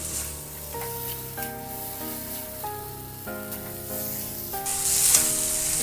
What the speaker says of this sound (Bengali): বেগুনটা দিয়ে আরেকটু আমি কষিয়ে নেব।